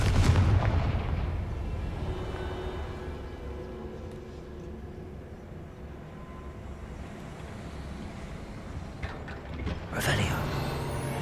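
The Confringo fire spell goes off in Hogwarts Legacy with a booming blast at the start, a long low rumble after it, and a second sharp burst near the end.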